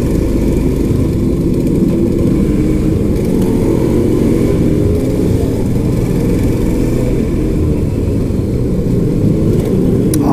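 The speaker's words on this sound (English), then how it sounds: "RD350 sounds awesome, man." Yamaha RD350 two-stroke motorcycle on a village bridge during a group ride, a loud continuous engine drone with a throbbing low beat, close up and steady throughout, no voices over it.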